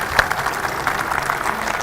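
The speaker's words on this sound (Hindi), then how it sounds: "जोरदार तालियों के साथ स्वागत कीजिए SK तिग्गा जी का" At an Independence Day evening gathering with CRPF personnel, an audience claps in welcome of a guest called to the stage, a brief, even patter of applause.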